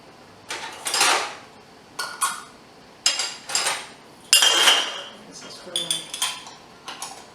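Hot glass jars are handled and set back into an oven, giving a series of bright clinks and clattering knocks in irregular bursts, close and fairly loud, with quiet gaps between them.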